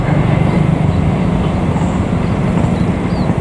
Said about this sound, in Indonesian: kereta api yang melintas adalah kereta api Taksaka